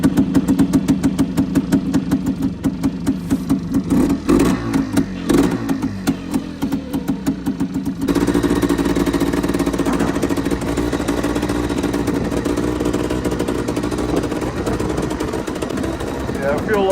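A 1990 Pilot's engine runs on choke on a cold day, a loud, rough, rapid knocking idle close by that smooths into a steadier, fuller drone after a sudden change in pitch.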